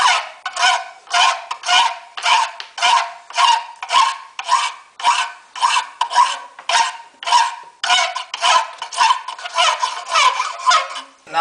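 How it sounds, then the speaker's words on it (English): A hand file draw-files the freshly sawn edge of a cut acrylic sheet in steady back-and-forth strokes, roughly twenty loud, close rasps evenly spaced and heard alone without talk. "What you need to do is draw filing it, which is where you've got your thumbs either side of it."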